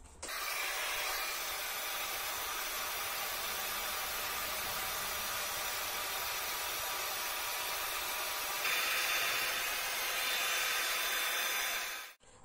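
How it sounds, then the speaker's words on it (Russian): A hair dryer heating the neck of a plastic bottle blows continuously at a steady, loud whoosh, with a slight shift in pitch near the end before cutting off. "Берем фен."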